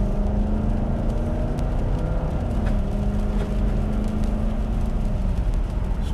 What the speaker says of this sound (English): Accelerates beautifully.